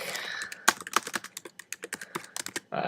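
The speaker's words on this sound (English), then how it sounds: "Then you just type in like" Rapid clicking of keys on a computer keyboard while entering text into a Twitter client, an irregular run of close, crisp taps with no talking.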